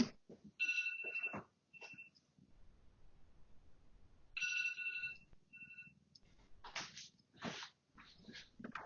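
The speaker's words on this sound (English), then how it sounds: "my fiance's phone alarm is going off" A phone alarm rings in two bursts of a bright repeating ringtone pattern, separated by a quiet gap, followed by fainter clattering and handling noises in a room.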